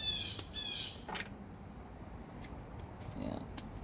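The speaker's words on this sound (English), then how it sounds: "And there's a hawk." A hawk gives harsh, screechy cries outdoors in the evening, loud at first and then fading into a faint, steady outdoor background.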